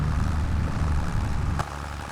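A grain tractor idling in Farming Simulator 25, a steady low engine rumble holding level, with a brief sharp click partway through.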